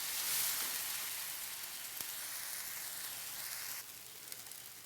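Quiet, steady sizzling and bubbling of an onion and tomato masala with a little water simmering in a pan, a soft continuous hiss with no talking.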